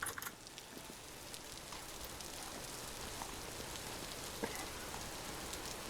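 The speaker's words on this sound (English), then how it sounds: "oh great, it's raining really hard" Heavy rain in the survival game Vintage Story gives a steady, dense hiss of falling water with scattered patters, even and fairly quiet throughout.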